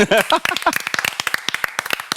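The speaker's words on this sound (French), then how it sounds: "Applaudissements pour Nao" Sparse handclaps from a small studio group on a live morning show, a quick scatter of sharp claps right after a spoken line, fading out over about two seconds.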